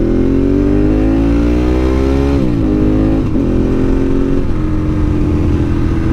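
A car accelerates hard in first gear to almost 70 mph. The engine note is loud and close, rising steadily, then drops and climbs again in a couple of short surges with no talk over it.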